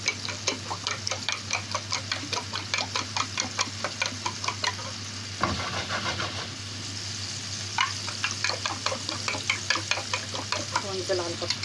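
Eggs and pastrami fry in a pan while a spatula stirs them in quick, regular scraping strokes over a constant close sizzle, with a brief louder clatter midway. There is no talking.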